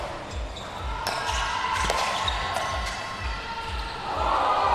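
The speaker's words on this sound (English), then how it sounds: "Hear the crowd." Crowd noise at an indoor pickleball quarterfinal match of the Asia Penang Open, a steady murmur and cheer swelling toward the end, with a rhythmic low thumping and a few sharp paddle-ball pops scattered through.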